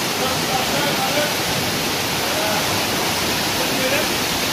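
Steady roar of a 30-metre waterfall, a broad continuous rushing wash of water that stays loud and even throughout, heard from nearby with no voices.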